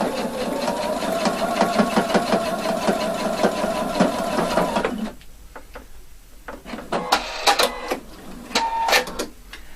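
A domestic sewing machine stitches close to the edge of a cuff placket in a fast, even run of needle strokes, stops halfway, and then gives a few short, sharp bursts of stitching with handling noise in between.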